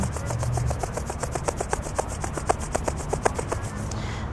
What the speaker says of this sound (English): And let's rub the hands together again.